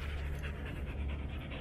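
A pack of dogs panting together, rapid rhythmic breathy huffs overlapping close to the listener, steady and fairly loud with no talk.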